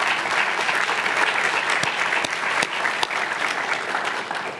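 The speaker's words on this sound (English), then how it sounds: "A round of applause for them." An audience at a December speech night claps for two course directors, a dense, even round of applause running the whole few seconds with a few sharper individual claps standing out.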